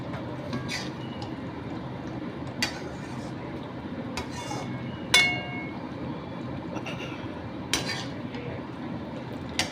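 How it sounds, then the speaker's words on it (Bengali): A spoon scrapes and clinks against a pan while mixed vegetable korma with thick gravy is stirred, soft occasional metallic taps over a steady low background hum. "ভালো করে নেড়ে দিচ্ছি"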